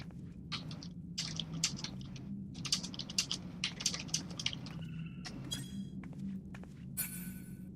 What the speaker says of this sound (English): I'm going to type in party chat